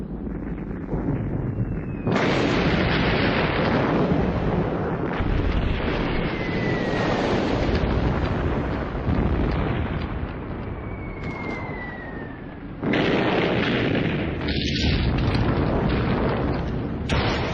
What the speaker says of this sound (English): An artillery barrage to soften up enemy positions would precede the infantry attack.